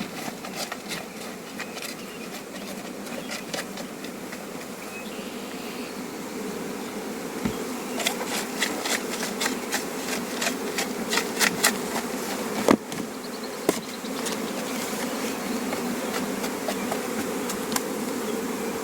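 Honey bees buzz steadily around small nucleus hives, a dense continuous drone close by, with scattered taps and clicks over it.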